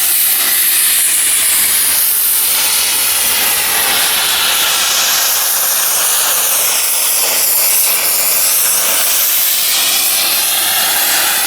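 A gas torch roars steadily and close up as it heats a cold steel flywheel to free its ring gear, a broad continuous hiss running for the whole stretch with no one talking.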